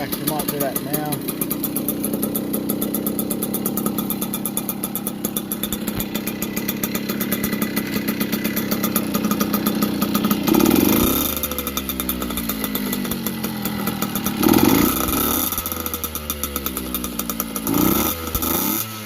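1982 Yamaha YZ50 dirt bike, running a bit rich with a gunked-up exhaust, idles with a rapid buzzing two-stroke putter and a few sharp blips of revving, loud and close throughout.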